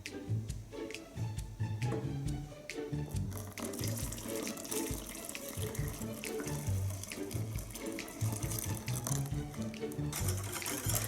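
Milk streams into a custard cream mixture with a vanilla pod, off the heat, making a steady, continuous liquid pour with soft splashing throughout.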